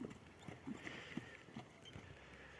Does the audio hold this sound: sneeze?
no